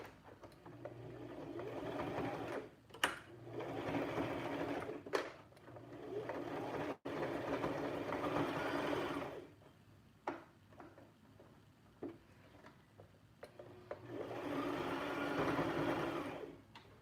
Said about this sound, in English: Let me sew this roll.